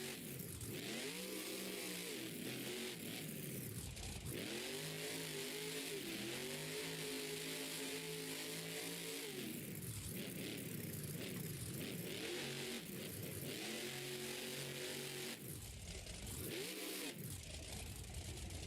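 Cars in a video game race rev hard and continuously, with engine pitch climbing and falling in repeated waves of acceleration, loud and close throughout with no talking.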